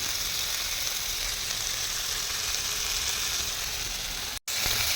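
Chicken masala pieces frying in a little oil in a pan give a steady, close, dense sizzle that holds evenly throughout, broken only by a brief dropout near the end, with no talking.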